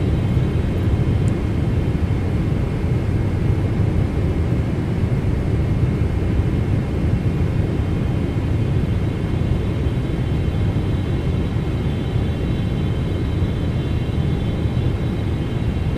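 Steady, loud jet engine roar of a GE-powered PMDG 777-200LR airliner in Microsoft Flight Simulator 2024, a broad continuous rumble with a faint high whine holding level throughout, no voices.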